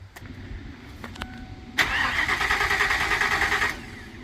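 A Ford E350 van engine cranks with a few short stuttering turns, then catches and roars into a loud, steady run for about two seconds before settling down, heard close by with no talking.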